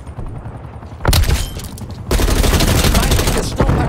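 Grenade blasts and gunfire roar through a Call of Duty Black Ops Cold War multiplayer match, a loud crack near one second followed by sustained booming, rattling bursts close by.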